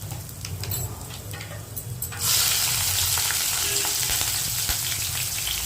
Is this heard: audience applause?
no